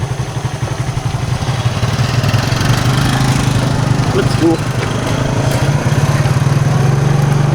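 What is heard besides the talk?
habal-habal motorcycle taxi engine running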